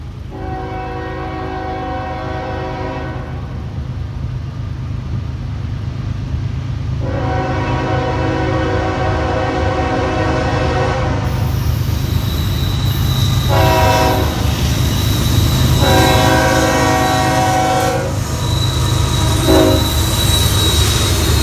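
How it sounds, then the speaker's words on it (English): Norfolk Southern NS-215 freight train approaching the Johnston Street grade crossing in a quiet town; a steady low rumble of wheels builds as the horn sounds in several long blasts, growing louder and nearer, with faint wheel squeal. "I hear NS-215 close by, and wait for them to approach the quiet town at the Johnston Street grade crossing"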